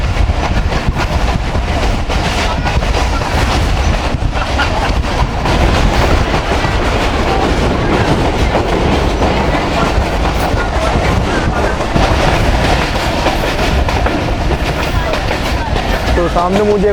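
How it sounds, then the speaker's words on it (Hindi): The Millat Express passenger train runs steadily on the rails in Pakistan, with a continuous loud rumble and rhythmic clickety-clack of the wheels throughout. A voice speaks faintly beneath the din. "तो इस वक्त ट्रेन हमारे पुलिया वाला के करीब दौड़ रही है"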